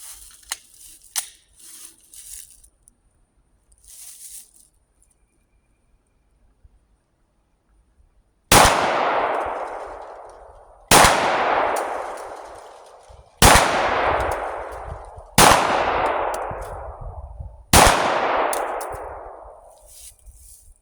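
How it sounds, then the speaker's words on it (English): A Glock 25 pistol fires five rounds of .380 ACP +P at a range. The sharp, loud shots come about two and a half seconds apart, each ringing out briefly, after some faint clicks and handling noise. "Okay, now let's try 5 rounds of the plus P."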